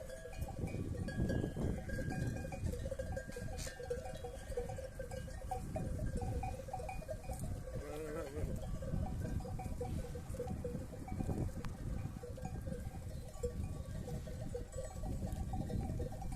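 A flock of sheep jostles and feeds on beets spread on pasture, with metallic bells clanking steadily and occasional bleats over a constant outdoor bustle.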